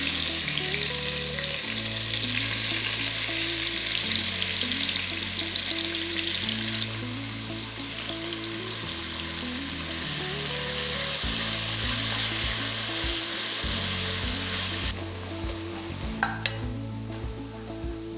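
About two large onions frying in oil for a Kozhikode beef biryani, a loud, dense, steady sizzle with a low mechanical hum underneath, heard up close without speech.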